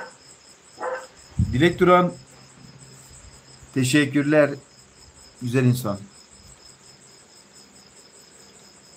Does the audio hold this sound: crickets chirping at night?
yes